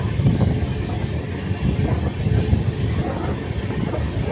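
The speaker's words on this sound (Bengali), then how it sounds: "ট্রেন ছেড়ে দিল বিনা জংশন।" A Humsafar Express train pulls out of Bina Junction, a dense low rumble of rolling wagons with faint rhythmic clatter, loud and close from on board, steady throughout.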